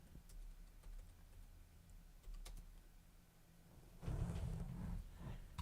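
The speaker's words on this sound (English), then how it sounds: "What I'm typing, I should do is look at what I'm typing so I can spell my words correctly." Someone types on a computer keyboard in an evening musician's shed, producing soft, irregular clusters of keystroke clicks that are quiet and close, alone with no talking.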